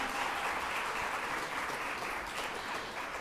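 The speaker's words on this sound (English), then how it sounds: "Yes, a round of applause, that's right, come on." Audience applause at a graduation ceremony for service and facility dogs, a steady dense patter of many hands clapping throughout, moderately distant and even, with no voices over it.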